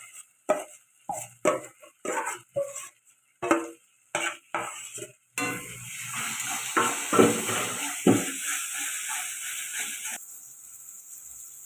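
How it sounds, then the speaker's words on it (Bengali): Spices frying together in hot oil in a pan for a raw banana, potato and egg curry: a run of sharp scraping stirs, then a steady close sizzle that fades to a softer hiss near the end. "মশলাটা খুব ভালো করে ভাজা হয়ে গেছে তেল ছেড়ে গেছে"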